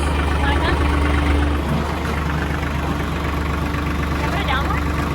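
A tractor engine runs steadily while a driveway is being made, a low, continuous idling rumble with a constant hum. Voices talk over it in the foreground.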